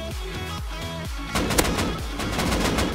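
Gunfire in a Rust PvP fight, a rapid string of sharp shots followed by a louder burst of overlapping blasts, close and aggressive throughout.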